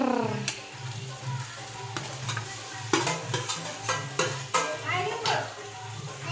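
Patra (pachid) goes into a pan and sizzles while a utensil clatters and scrapes against the metal in repeated stirring strokes, close and fairly loud, with faint voices in the background.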